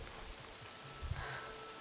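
Steady rain falls in Horizon Zero Dawn as a soft, even hiss with faint patter, quiet and continuous throughout.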